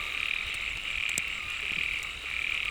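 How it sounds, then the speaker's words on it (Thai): Frogs croak during mating season in a steady, loud, continuous chorus of many overlapping calls, heard close and outdoors, with a few faint knocks and rustles beneath. "กบมันรัก"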